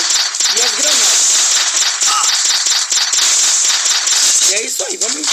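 Automatic gunfire in the shooter game Ciber Dead crackles in a rapid, continuous stream of small pops, loud and dense throughout, while someone talks over it.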